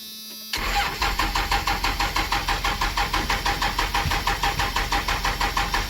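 A second-generation truck's diesel engine cranks without catching, a fast, even, rhythmic starter churn that continues steadily after a click and never fires.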